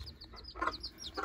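A hen and her chicks, with a few faint clucks and repeated high peeping from the chicks in a short, quiet burst.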